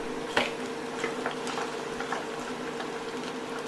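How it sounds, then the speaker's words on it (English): Battered chicken pieces deep-frying in hot oil give a soft, continuous bubbling sizzle with scattered faint pops and crackles, close by and alone. "So we're frying for about 3-4 minutes."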